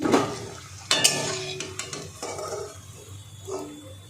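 Egg kachori fries in oil as pieces are lifted out with a utensil, producing clinks and scrapes of metal on the pan over a faint background sizzle.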